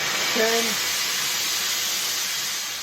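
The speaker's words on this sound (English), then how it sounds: "The steam comes out." Steady broadband hiss of steam from a Vaportech Athena 8 plus steam cleaner, a continuous, fairly loud jet lasting the whole stretch, with a brief faint tone near the start.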